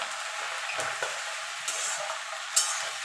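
Taro leaf paste mixture stirred in a pan over a gentle steady sizzle, close and fairly quiet, with a few soft scrapes of the spoon and a sharper clink near the end.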